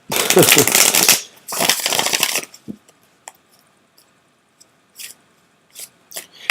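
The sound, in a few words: shuffling cards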